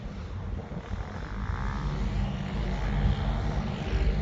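An Eachine P-51D Mustang brushless RC plane flies in windy conditions, giving a steady, loud motor whine over broadband wind noise that swells slightly as it passes near.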